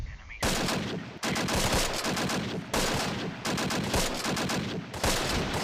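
Gunfire in the World War II strategy game Close Combat: Last Stand Arnhem, loud sustained machine-gun bursts in rapid continuous volleys, broken by brief pauses between bursts.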